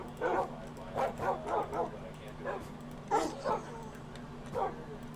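Dogs in the Minecraft video game bark and yip in short, uneven bursts, several sharp yelps scattered across the moment, fairly quiet against a low steady hum.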